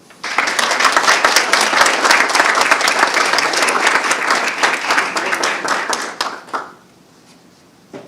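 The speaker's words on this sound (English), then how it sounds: "let's again give all of these phenomenal contestants another round of applause" Audience applause for contestants at a speech contest, loud and dense clapping from a room of listeners that holds steady for about six seconds, then tapers off to near silence.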